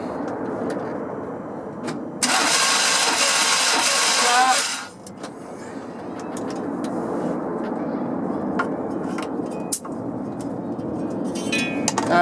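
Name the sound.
1998 Chevy 1500 Cheyenne engine cranking and starting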